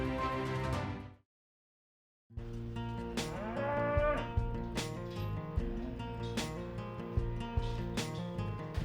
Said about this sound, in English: The cattle are brought in by ranchers from all over, they're sorted and placed in corrals and fed right up until the auction begins.